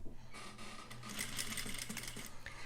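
A sewing machine back stitches at the start of a flat felled seam, a steady fast mechanical whir with rapid needle clatter, close and clear with no talking.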